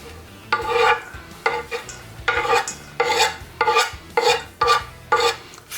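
A spoon stirs and mashes finely chopped onions into warm potatoes for Japanese potato salad, giving repeated close, scraping, squelching strokes at a steady, uneven rhythm.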